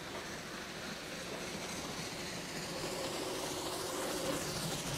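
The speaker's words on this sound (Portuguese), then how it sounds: "Vamos acionar o trem de novo." A train rumbles past in a Doppler effect demonstration, a steady rolling rail noise with faint rhythmic clatter that grows slightly louder toward the end.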